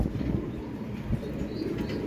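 Racing pigeons in a loft coo steadily at close range, with soft rustling and occasional wing movement running through the whole stretch.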